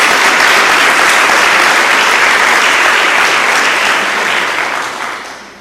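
A church congregation bursts into loud, dense applause, many hands clapping together in a sustained roar that fills the space and then gradually fades out near the end.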